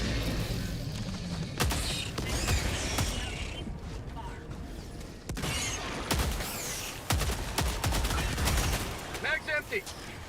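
Heavy assault rifle fire in Helldivers 2, with chunky automatic bursts repeating through dense battle noise. There are brief pauses between the bursts.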